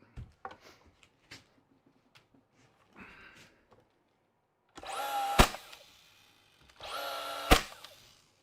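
Nails driven into wood while building a French cleat: scattered light taps, then two longer bursts of power-tool noise each ending in a sharp impact crack, close and moderately loud with no talk.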